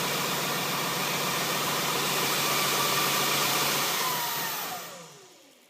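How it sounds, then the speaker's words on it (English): A330 motors running steadily with the throttle just above idle, a dense whirring hum that holds constant before spinning down and fading at the end. "I've got the throttle just above idle."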